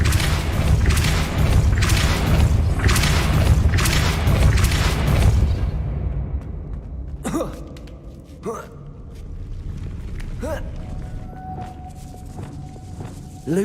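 Depulso spell cast in Hogwarts Legacy: a heavy booming thud with rumbling game effects, followed by softer scattered impacts and mechanism sounds over a quieter stretch.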